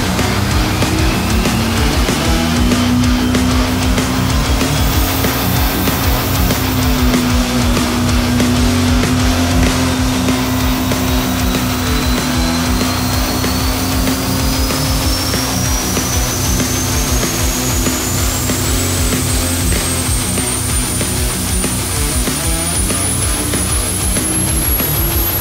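A turbocharged engine of over 1,000 horsepower held under load on a dyno, a loud sustained roar with a turbo whine climbing steadily in pitch, unbroken throughout.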